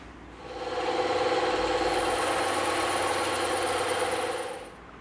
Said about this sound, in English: because this is so thick, we're gonna cut this on the bandsaw.